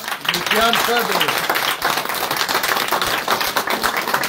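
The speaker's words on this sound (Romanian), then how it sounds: "Hai să-l aplaudăm, vă rog frumos!" An audience at a Cenaclul Flacăra gathering applauding loudly and continuously, dense clapping filling the room while a voice speaks briefly over it at the start.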